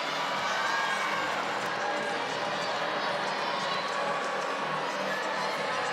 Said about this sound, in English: If you can hear the booing, it's a 9-9. The fans are not happy.